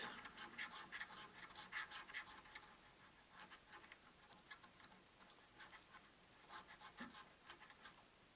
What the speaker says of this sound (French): on va gratter la case en premier